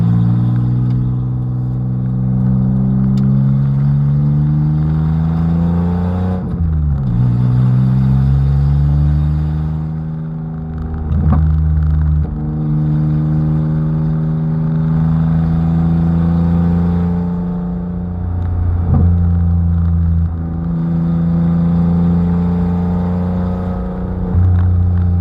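Three-cylinder car engine fitted with a header exhaust, revving loudly and close, with a deep throaty drone that rises and falls through several sharp throttle blips and steady holds, no talking.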